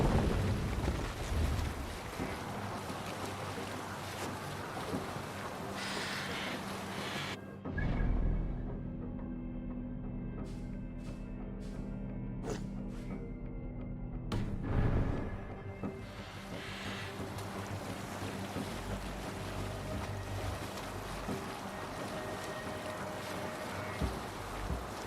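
A sailing ship moving across open water in Assassin's Creed Valhalla, with steady rushing wind and waves, a brief sharp break where the wind drops away and faint creaks and clinks sound, then the full wash returns.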